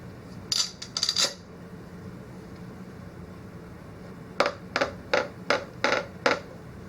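Metal clamps are set in place on a wooden box over protective wood pieces: a short cluster of clinking, rattling metal knocks, a pause over faint hum, then six evenly spaced sharp clanks, close and distinct, with no talking.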